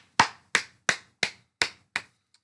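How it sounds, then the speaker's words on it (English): Fans clapping in the Football Manager 2019 video game: six evenly spaced, sharp clap bursts about a third of a second apart, crisp and isolated against silence, then a faint trailing tap. "and our fans just clap."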